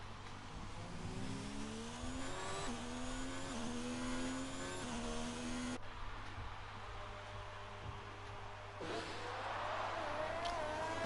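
Race car in a racing video game on a lap of an Italy round, a steady engine whine rising and falling through gear changes, close and continuous with an electrical hum beneath.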